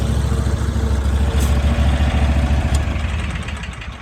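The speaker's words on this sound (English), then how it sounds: "So this is my backup mower." Commercial zero-turn backup mower with its engine running steadily and loud close by, a low rumbling idle-like drone that holds throughout and eases slightly toward the end, with no talking.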